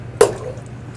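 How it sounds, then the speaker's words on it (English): Boiling water is ladled into the water bath around a cheesecake pan, giving one short, close splash followed by a quiet watery trickle. "I'm going to try using a large ladle here to carefully Spoon this boiling hot water into this cheesecake."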